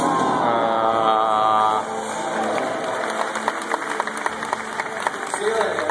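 A studio audience at a stunt game show claps steadily, with a broad wash of applause building after a brief stretch of sustained tonal sound and continuing under scattered talk.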